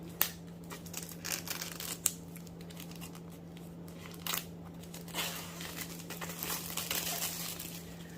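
Paper handled and unwrapped near a dip pen and ink setup, giving close crinkling and rustling with a few sharp crackles over a steady low hum, no voices.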